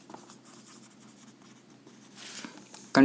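A pen or marker writes on a surface during a lesson on the Hoopes electrolytic process, with soft scratchy strokes that grow busier near the end before a sharp louder knock closes the clip.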